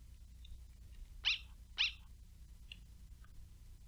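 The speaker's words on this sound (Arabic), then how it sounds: "إنه كلب" A dog in the Undertale video game gives two short, clear barks about half a second apart, moderately loud over a faint steady background hum with a few soft blips.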